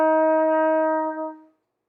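A trumpet sounds a bright, sustained F blown with faster air on the first valve, holding strong for over a second with a slight dip near the end before cutting off, unaccompanied.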